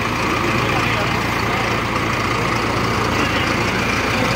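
A tractor with a CRDI diesel engine idles at a farm fair, giving a steady, even rumble for the whole stretch. It is mixed into dense, noisy surroundings, likely a crowd.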